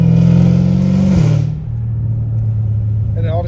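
A catless, straight-piped Dodge Hellcat Redeye with an aftermarket air intake gives a loud, deep rev that drops away after about a second and settles into a throaty idle rumble, with a voice briefly heard at the end.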